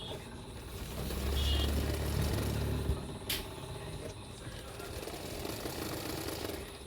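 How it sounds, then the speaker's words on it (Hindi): A domestic sewing machine stitches a blouse cup seam with a half-inch margin, running as a steady mechanical whir for most of the clip, with a heavier low rumble in the first few seconds. "1/2 इंच मार्जिन रखते हुए और एक सिलाई कर दूंगी"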